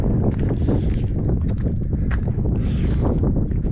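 Strong wind blowing at Rama Lake in the Astore Valley, buffeting the microphone with loud, continuous rumbling gusts that swell and dip throughout.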